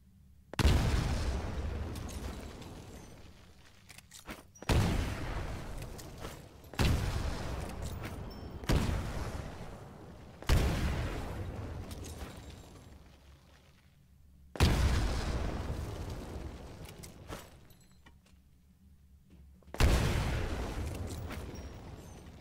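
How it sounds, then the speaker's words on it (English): Grenades detonate one after another in Titanfall pilot training, six loud booms spaced a few seconds apart, each a sharp blast trailing off into a long rumbling decay. "Throw a grenade into each of the windows"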